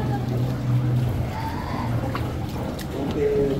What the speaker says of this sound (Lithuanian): Iš priekio dar vienas laivas parplaukia